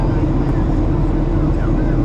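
A Jet2 Boeing 737-800 lands at Gran Canaria, heard from inside the cabin as a loud, steady engine and airframe roar, with passengers chatting over it.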